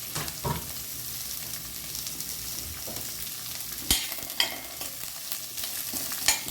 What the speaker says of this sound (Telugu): ఇదిగోండి, ఆనియన్ కూడా వేస్తున్నాను, కొంచెం ఇవి కూడా ఫ్రై చేసుకోవాలి.